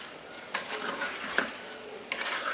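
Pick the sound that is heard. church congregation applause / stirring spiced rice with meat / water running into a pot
stirring spiced rice with meat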